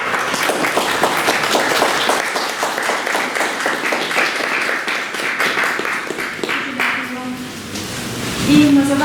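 Audience at a museum exhibition presentation in Lviv breaks into sustained applause, dense rhythmic clapping filling the room before tapering off as a voice begins speaking near the end.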